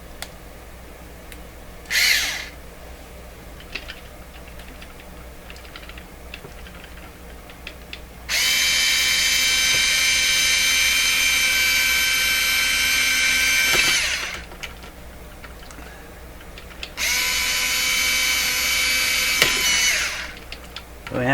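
A power drill driving Phillips screws while a Nordmende Spectra Phonic set is being reassembled, heard as two loud sustained whirring bursts of several seconds each, with a short brief buzz earlier and quieter ambient gaps between them.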